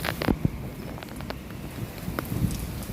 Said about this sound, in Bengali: বৃষ্টি পড়তেছে প্রচুর